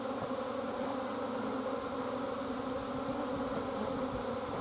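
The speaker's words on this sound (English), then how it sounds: "we have lots and lots of bees" Honeybees from a nuc being installed swarm and buzz all around, a dense continuous drone that holds steady and close with no voices.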